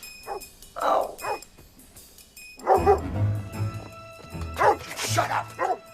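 A small dog yaps and barks in a few quick bursts indoors, fairly close, with barks overlapping and alternating with a voice talking.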